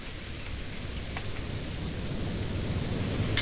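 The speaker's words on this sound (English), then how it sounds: "It's gonna rain the whole weekend" Steady rainfall in the video game What Remains of Edith Finch hisses throughout, growing slightly louder toward the end, with no voices.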